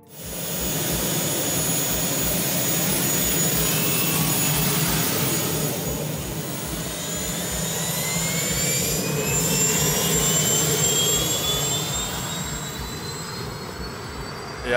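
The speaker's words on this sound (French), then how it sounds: "ça fait un bruit d'hélicoptère" Loud, steady turbine whine with a rushing roar from a helicopter turbine engine fitted in a motorcycle, rising and falling slightly in pitch as it revs, close and continuous throughout.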